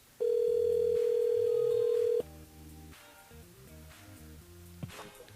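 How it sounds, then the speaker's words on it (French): Long steady ringback tone of a phone call placed to a radio show listener, one unbroken tone lasting about two seconds, followed by a faint line with soft music playing underneath. "il nous appelle Cindy du côté de Saint-Louis"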